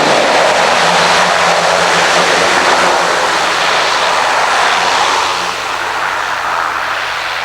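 A small propeller airplane lands on a little runway, a loud continuous engine drone and rushing wind noise that holds steady throughout, then eases a little near the end, with no talk.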